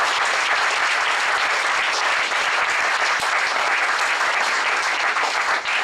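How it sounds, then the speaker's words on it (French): Loud, dense audience applause at a business club anniversary event in June 2017, a continuous wash of many hands clapping close by without a break. "si on peut les applaudir"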